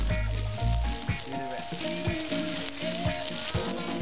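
Chickpea and veggie fritters frying in a pan, a steady close hiss and crackle of sizzling oil running throughout with a few soft bumps of handling.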